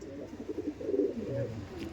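A Madras pigeon coos in a loft, a low, throaty series of soft rolling calls repeating steadily and fairly close over faint background hiss.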